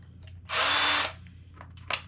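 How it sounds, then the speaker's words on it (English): A hand drill spins a nylon .30 caliber brush inside rifle case necks, a single loud steady whir lasting about half a second, starting and stopping abruptly, with faint clicks and handling noises around it. "I've got a 30 caliber brush. nylon chucked up in a hand drill,"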